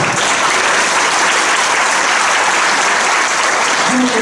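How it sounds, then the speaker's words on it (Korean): A lecture-hall audience breaks into loud, sustained applause, a dense, even roar of many hands clapping close by, with a few faint voices under it. "큰 박수 부탁드리도록 하겠습니다"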